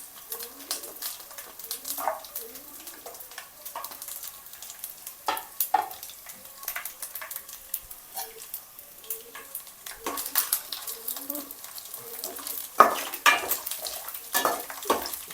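Coconut roasts in a pan while a spatula stirs and scrapes it in soft, irregular strokes over a quiet sizzle. Faint bird calls sound in the background.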